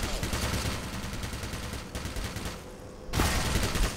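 Turret gunfire in Black Mesa, rapid automatic bursts that rattle on steadily, pause briefly, then resume loud and close, with no voices.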